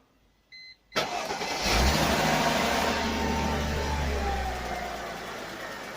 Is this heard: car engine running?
yes